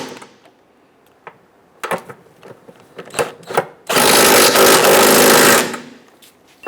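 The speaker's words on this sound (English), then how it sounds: "Go ahead and tighten down our transmission mount nuts here." An impact wrench or power tool tightens transmission mount nuts on a 2011-2021 Jeep Grand Cherokee 3.6L V6, with a few short clicks and bursts before one loud, sustained buzzing run of nearly two seconds, close by.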